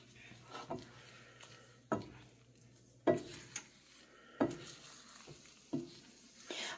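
Eggs cooking in a pan, a quiet steady sizzle broken by a handful of sharp utensil scrapes and taps against the pan at uneven intervals, up close.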